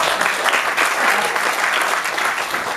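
Loud, dense applause fills the hall after a monodrama performance, steady and continuous from an audience close by.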